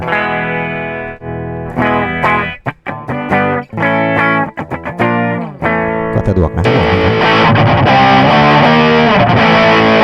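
Distorted electric guitar through a Valeton Coral Cab cab simulator pedal, riffs and sustained chords, loud and close, with a brief spoken phrase near the start.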